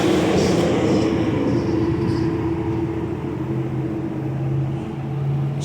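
A Chevrolet Camaro IROC-Z rolls along with a steady, loud low rumble and a droning engine tone that holds evenly from start to end.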